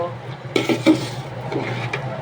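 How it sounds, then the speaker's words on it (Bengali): Rice for chicken biryani is stirred and fried in a pot, with a few scraping and clinking stirs over a low steady sizzle, close by. "এখন আমি নেড়ে চেড়ে আরও কিছুক্ষণ ভেজে নেব"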